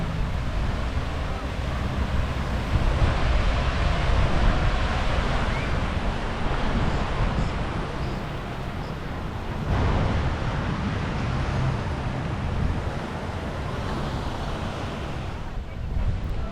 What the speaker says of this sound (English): This is the other beach, and it is pristine and beautiful.